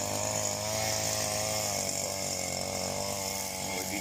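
A grass cutter runs on a dragon fruit farm, its small engine whining steadily and loudly at close range. The motor holds a constant, unbroken drone and no one speaks.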